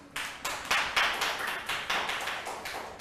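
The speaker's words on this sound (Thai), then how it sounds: "ปรบมือให้15คนค่ะ" Students in a primary school classroom clap for classmates, a brisk burst of many hands at a steady rhythm that carries on throughout without talk.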